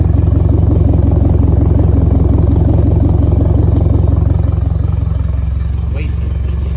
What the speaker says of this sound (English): Wastegate is leaking.